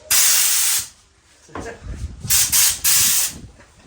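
Compressed air hissing loudly from a hose plugged into a garage air compressor, a long blast followed by several shorter spurts with mechanical rattling between them.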